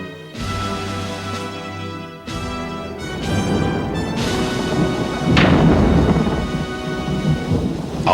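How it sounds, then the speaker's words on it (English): Heavy rain pours steadily while thunder rolls over a city, with deep rumbling swells and a sharp crack partway through, loud and enveloping, with no voices. "Outside, the thunder rolled ominously over the city. Lightning lit the skies, and the rain fell in a deluge."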